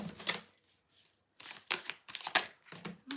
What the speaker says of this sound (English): Please bear with me while I shuffle.